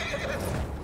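Horse whinnying in the World War I shooter game Battlefield 1, one loud, close neigh over a dense, continuous game soundscape with no talk.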